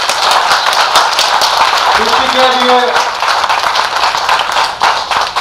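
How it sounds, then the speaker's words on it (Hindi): Poetry recital audience clapping in a sustained, dense ripple of applause while someone speaks over it. "तालियां बजाइए"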